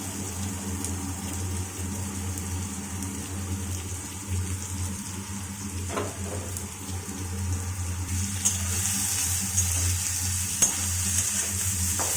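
Carrot and potato frying in mustard oil, a steady close sizzle with occasional stirring scrapes, growing slightly louder toward the end, with no talking.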